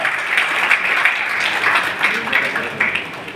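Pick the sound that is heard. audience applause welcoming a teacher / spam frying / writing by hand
audience applause welcoming a teacher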